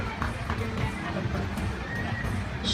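An eight-horse hitch of Budweiser Clydesdale draft horses pulling a wagon at the Armada Fair, swung 90 degrees by the driver, with hooves clopping under crowd noise and talk and a brief whinny near the end.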